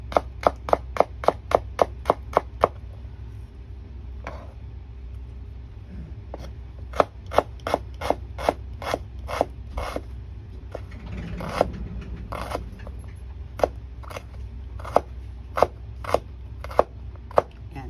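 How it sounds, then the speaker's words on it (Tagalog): A knife chops a small amount of onion into small pieces on a cutting board in a rapid, even rhythm of crisp close taps, with a brief pause in the middle before the chopping resumes. "Lagyan ko siya ng konting sibuyas. Konting sibuyas lang. Hiwain din natin siya ng maliliit."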